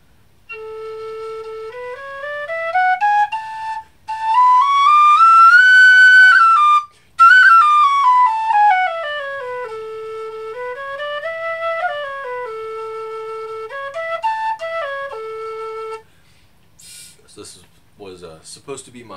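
An alto A tin whistle plays a clear, sustained melody with sliding ornaments for most of the stretch, then stops and a voice begins speaking.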